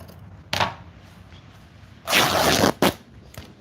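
Scissors cut down a piece of material in a craft project: a short snip, then a longer rasping slice followed by another quick cut, close and alone against a quiet room.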